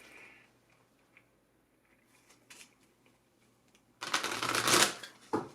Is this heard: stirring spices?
no